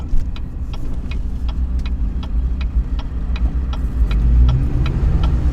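A pickup truck engine drones steadily at close range while towing at about 35 mph, with low rumble and road noise, rising slightly toward the end, with faint rhythmic ticking above.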